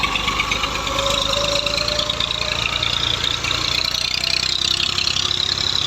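Massey Ferguson 240 tractor from 1994, its engine running steadily at a constant pace with a mid-pitched drone and a faint whine above it, no talk.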